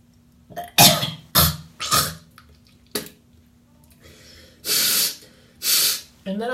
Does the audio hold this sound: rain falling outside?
no